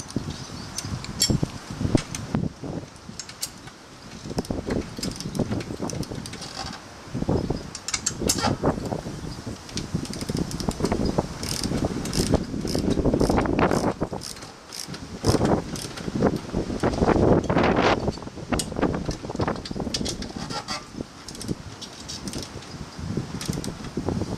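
A ratchet wrench tightens the fuel tank mounting bolts on a 2011 Harley-Davidson FXDC, giving dense runs of quick mechanical clicks and creaks in bursts, close up, with light background noise and no speech.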